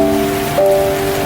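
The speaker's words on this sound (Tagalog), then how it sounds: "Patak ng ulan sa dahong berde." Rain patters steadily on green leaves as an even, moderately loud hiss, with soft sustained musical tones running underneath.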